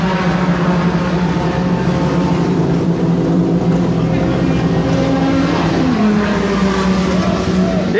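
A touring race car with a Nissan H16DE engine roars past at a Brazilian Turismo 1.4 qualifying session, its loud engine drone holding steady and shifting pitch as it goes by, with trackside talk mixed in.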